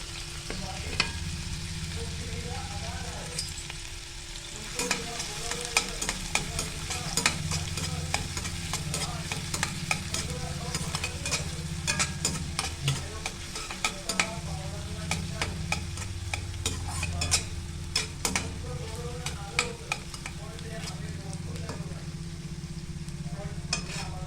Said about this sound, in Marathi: इथे आपण तेल तापवा ठेवले त्यात आपण टाकते कांदा